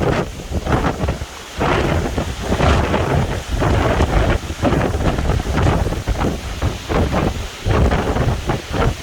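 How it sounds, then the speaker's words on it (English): Heavy rain pours steadily in a severe thunderstorm while thunder rumbles and wind buffets the microphone, loud and continuous throughout with no speech. "Here comes the rain, folks."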